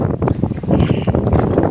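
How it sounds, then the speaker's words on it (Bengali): Strong gusty wind at a riverbank ahead of a cyclone buffets the microphone in loud, uneven rumbling bursts that rise and fall over a couple of seconds. "কত বাতাস হইতেছে, কি একার কি পরিমাণ বাতাস"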